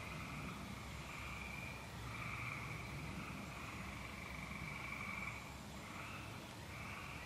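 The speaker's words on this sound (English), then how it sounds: "Got the owls and the frogs." A chorus of frogs croaks at dusk beside Lake Harrisonville, a faint, continuous, pulsing trill with overlapping calls that swell and ease, set against a quiet outdoor backdrop.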